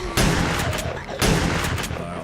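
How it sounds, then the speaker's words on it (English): Two heavy bursts of gunfire from the survival game 7 Days to Die (Alpha 16.4), each a loud rattling volley of rapid shots, the second following about a second after the first, with faint game ambience between. "Oh, Jesus, that was terrible shooting."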